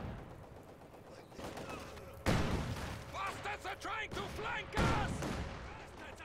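Machine gun and tank fire crack out in a competitive strategy game match. Two sharp, loud blasts and bursts of rapid shots sit under a caster's steady commentary.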